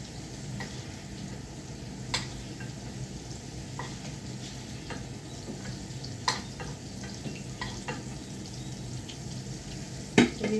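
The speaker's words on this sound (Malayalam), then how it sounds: "ഈ ബട്ടറിനകത്ത് തന്നെ ഉള്ളി ഇടാം" Onions sauté in butter in a pan while making paneer butter masala, a steady soft sizzle broken by occasional sharp clicks and scrapes of a spoon stirring, no voices.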